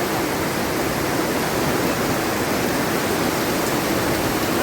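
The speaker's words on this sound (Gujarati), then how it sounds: "કાળા કાળા વાદળ થઈ ગયા છે પવન સાથે વરસાદ" Wind-driven heavy rain in Modasa under dark clouds, a constant broadband hiss and roar that holds steady and loud for the whole stretch.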